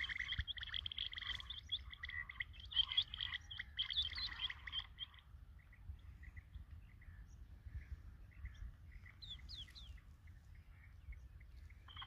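A female quail calls in the open with rapid, repeated high chirping trills, loudest early on, then softer scattered calls over a low rumbling outdoor background.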